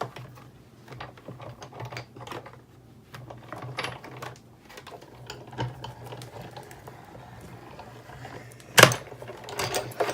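A Big Shot die-cutting machine cranks card stock through an embossing folder, producing a run of close, quiet mechanical clicks and ratcheting ticks with one sharp clack near the end.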